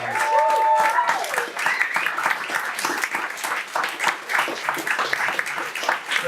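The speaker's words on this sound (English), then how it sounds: "Can we have a final round of applause for all the readers here this evening?" Audience applause for the readers at an evening reading event, steady dense clapping from a room of people, loud and sustained throughout, with a brief voice or tone near the start.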